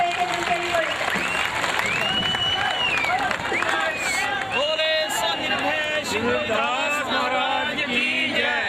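An indoor audience in Bangalore applauding together, a sustained clatter of clapping under a hubbub of crowd chatter while voices carry over the top throughout.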